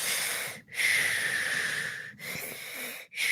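A voice imitates heavy breathing: long, raspy wheezing breaths repeated three times, each separated by a brief silent pause.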